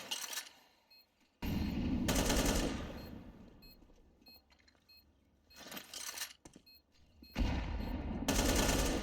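Gunfire and grenades in a video game esports match: loud bursts of rapid shots come in several separate volleys with quieter gaps between, and no talk.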